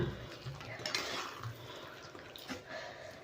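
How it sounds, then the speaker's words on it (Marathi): Potatoes for dum aloo being stirred in oil in a metal pan, with soft scraping and clinking of a spoon against the pan over a steady low sizzle, close and fairly quiet. "आता इथे आपण छान मस्तपैकी बटाटे सर्व घालून घेतले आहे आता हे आपण छान मिक्स करून घेऊया"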